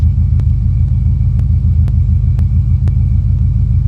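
A Buick Regal engine fitted with Holley EFI idles steadily at about 800 RPM after a cold start, a loud, constant low rumble with faint regular ticks, close to the microphone and with no voices.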